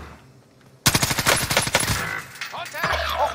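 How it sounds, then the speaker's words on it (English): A loud, close burst of sustained LMG fire in Call of Duty Rebirth, starting abruptly and rattling on for about a second before tapering into scattered shots and game sounds. "what fucking gun are you shooting, bro? It's an LMG."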